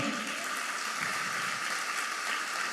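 Church congregation applauds a sign-language presenter and her team, a dense, steady patter of many hands clapping at even loudness from start to finish, with no speech.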